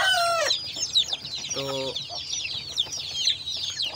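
Desi hens cluck in a busy run, with a rooster-like call at the start, overlapping clucks and chirps throughout, and a brief word spoken.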